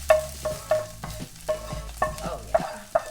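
Veggies and tofu stir-fried in a frying pan, a steady sizzle broken by sharp scraping stirs about every half second, close and alone with no talking.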